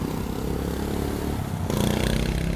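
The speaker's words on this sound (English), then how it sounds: "Well, if that motorcycle would STFU." A motorcycle engine roars steadily nearby for a couple of seconds, and the sound grows louder and harsher partway through as the bike passes or accelerates, with no voices.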